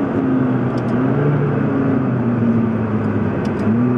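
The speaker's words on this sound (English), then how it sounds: "I'm changing gear myself now" McLaren MP4-12C engine heard from the cabin in normal mode, loud and close, its pitch climbing and dropping as gears are changed by hand, with no talk over it.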